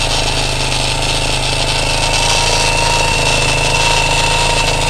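A Honda CTX200 frame with a 230 engine swapped in idling close up, a loud, steady thumping with a rattly, tapping clatter from the top end running throughout.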